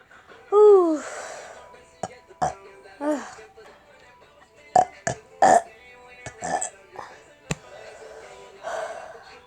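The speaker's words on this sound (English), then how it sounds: "How many burps do I have?" A long, loud belch opens the clip, then comes a run of shorter burps and throat noises from one person, close to the microphone, with some quiet vocal sounds between them.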